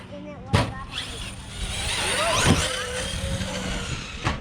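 An Arrma Kraton 4S Hybrid RC car driving, a whining electric motor rising and falling with a couple of thumps from the chassis, with voices talking over it.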